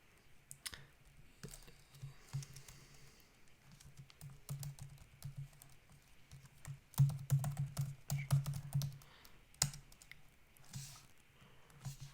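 A password is typed on a computer keyboard in quick, irregular bursts of soft, close key clicks, with a few louder taps and short pauses between runs, over a quiet background.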